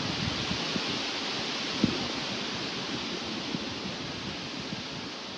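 Wind blowing outdoors makes a steady, broad rushing hiss that stays constant throughout, with a few faint soft knocks and no voices.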